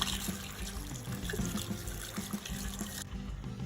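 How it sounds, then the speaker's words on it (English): Water runs steadily over beef being washed in a sink, a continuous trickling splash with light clatter, close by, ending abruptly. "So the first thing I'm gonna do is just wash the meat."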